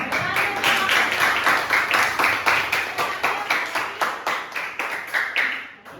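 Classroom audience clapping after a student group presentation, a loud, tight burst of rapid claps that keeps an even pace for several seconds before tapering off near the end.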